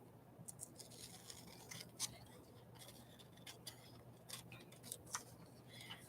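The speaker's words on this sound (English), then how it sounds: "Let's grab some scissors. And trim this down some." Scissors trim craft material for a Christmas glue book, a few faint, sparse snips and light clicks over a quiet room hum, no talking.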